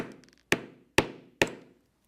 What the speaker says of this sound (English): punch lacing holes as shown in our pattern with a 1/2 inch oblong drive punch